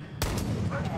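A single sharp gunshot from an armor-piercing rifle loaded with standard rounds in Far Cry 5. It is close and loud and followed by a brief echoing tail over steady game ambience, with no talk.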